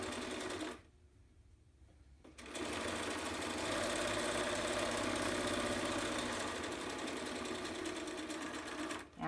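A sewing machine backstitches at the start and end of a fabric seam for a face mask, its motor whirring loud and steady after a brief pause near the beginning.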